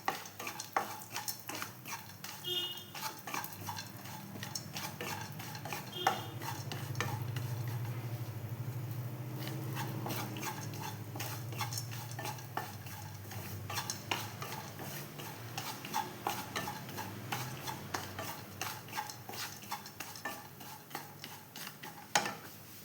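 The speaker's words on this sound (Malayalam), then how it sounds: "നിലക്കടലേനെ ഒന്ന് നമുക്ക് വറുത്തെടുക്കാം" Peanuts roasting in ghee in a pan, stirred steadily so a low continuous sizzle runs under repeated scraping and clinking from the utensil against the metal, with no talking.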